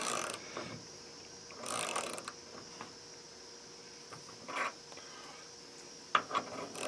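A 90-tooth hand ratchet wrench is turned, giving soft, quiet ratcheting bursts and clicks spread irregularly across the clip, with a sharper click near the end.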